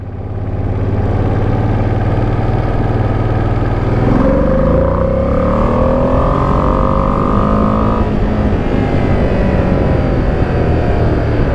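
A 2025 Ducati Panigale V2S engine drones at steady speed, then revs up through rising gear pulls from about four seconds in and holds a loud, close mechanical roar to the end, with no talking.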